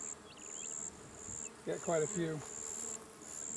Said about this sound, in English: The bees hang on there like that